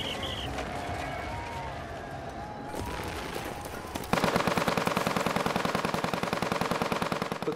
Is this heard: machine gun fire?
yes